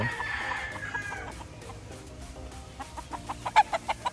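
A sweater-breed gamefowl rooster at a game farm gives a run of clucks that grow louder and closer toward the end, over a faint outdoor background.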